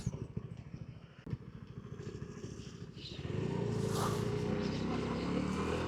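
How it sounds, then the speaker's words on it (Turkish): A struggling motorcycle engine sputters with uneven, choppy firing, then settles into a louder, steadier drone after a few seconds, close to the rider on a city ride through Buca. "Reisim motor can çekişiyor."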